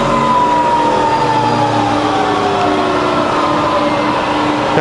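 A rebuilt Bridgeport milling machine spindle running at high speed, a steady loud whine with a smoothly sliding pitch over a constant mechanical hum, no talk.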